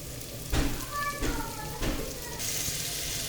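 Tomatoes frying with ginger and onion in a pan, a steady sizzle under a few short stirring scrapes, with a voice talking over it in the middle.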